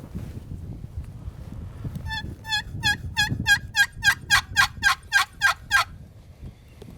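A wild turkey gobbles repeatedly in the distance, a rapid run of rattling gobbles growing stronger and more regular, heard over low outdoor wind rumble on an Indian Creek turkey hunt.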